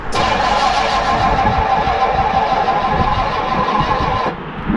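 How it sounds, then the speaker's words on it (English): An old project car's engine cranks on the key with the choke pulled, a loud, steady churning drone that runs for about four seconds before cutting off abruptly, no voices over it. "Try pulling the choke and doing the key like you were going to do then."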